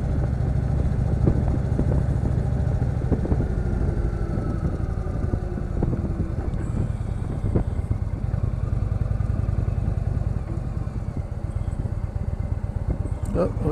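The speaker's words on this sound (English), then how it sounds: "This is the first time I've ever ridden a Indian motorcycle." A brand-new 2016 Indian Chief Vintage motorcycle rumbles steadily while being ridden, a low continuous engine drone close by with road and wind noise, as the rider talks over it.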